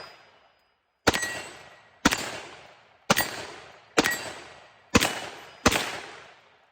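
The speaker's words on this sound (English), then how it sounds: "so we'll just shoot some steel and have a little fun" Six loud, sharp shots from a Smith & Wesson 686-6 Plus .357 Magnum revolver with a 4-inch barrel, fired at steel targets about once a second, each with a quick ringing decay, with no talk.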